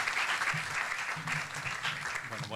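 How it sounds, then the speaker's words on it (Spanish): Loud, steady applause from an audience at the opening event of a tourism exhibition in Puerto de La Cruz, Tenerife, dense clapping sustained throughout with a faint murmur of voices underneath. "para el que pido un fortísimo aplauso"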